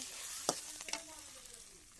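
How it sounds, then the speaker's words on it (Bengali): Bay leaves and cumin seeds frying in oil for khichuri give a soft steady sizzle, with a couple of sharp clinks of a spatula against the pan near the start, and no voices. "এখন তেজপাতা আর জিরে দিয়ে দিল। দিয়ে ভালোভাবে নেড়ে চেড়ে নিচ্ছে।"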